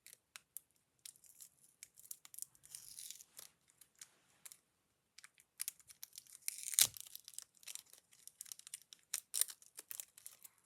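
A heavily taped sticker package is torn and crinkled open by hand, with sharp intermittent ripping and crumpling bursts in a quiet room.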